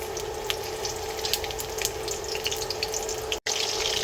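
Beef strips fry in a pan for a crispy beef stir fry, a steady close sizzle and crackle with scattered pops and spits, holding even throughout with a brief break near the end.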